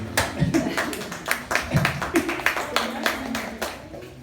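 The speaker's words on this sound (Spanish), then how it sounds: "Un aplauso aquí para la hermana" A church congregation at a cell group gathering claps for a sister in sharp, distinct strikes from a modest number of hands, loud and close, with voices murmuring underneath.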